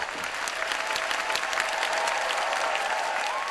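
A seated audience at a Korean traditional tightrope-walking show breaks into sustained, dense applause, a steady wash of many hands clapping at once that holds level throughout.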